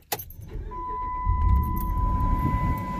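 A 2006 Dodge Ram 1500 engine cranking and catching, with a sharp click and a jingle of keys up front before the engine rumbles up and settles into a steady idle, a thin high whine running underneath.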